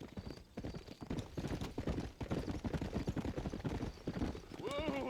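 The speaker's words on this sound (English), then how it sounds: "Okay, so I can just take this horse." A horse's hooves clip-clop in a steady quick rhythm on a dusty town road in Red Dead Redemption, close and continuous, with a brief whinny near the end and someone talking over it.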